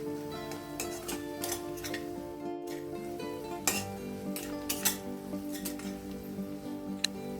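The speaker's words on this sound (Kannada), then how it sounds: "ಲೋ ಫ್ಲೇಮ್ನಲ್ಲೇ ಇದನ್ನ ಕಂಟಿನ್ಯೂಯಸ್ಲಿ ಸ್ಟಿರ್ ಮಾಡ್ತಾ ಮಾಡ್ತಾ ಮಸಾಲ ಪೌಡರ್ನ ಚೆನ್ನಾಗಿ ಫ್ರೈ ಮಾಡ್ಕೋಬೇಕು" Chilli and turmeric powder fry with onions in a pan on low flame, heard as a faint, steady sizzle. Soft clinks and scrapes from stirring break in at irregular intervals.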